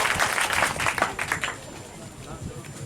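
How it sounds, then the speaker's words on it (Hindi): Audience applause for a student at an award ceremony honouring successful matriculation students of a mathematics coaching class, a burst of clapping that fades out after about a second and a half, with a voice over it. "एक बार जोरदार तालियां"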